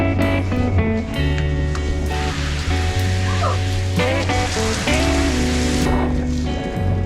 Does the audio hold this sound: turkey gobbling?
no